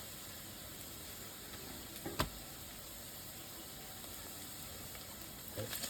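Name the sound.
onion, ginger and garlic frying in a pan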